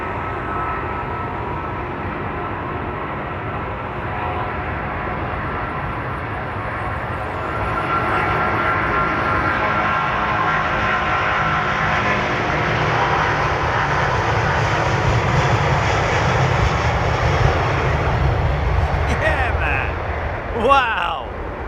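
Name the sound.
aircraft jet engines roaring, departures on runway 27R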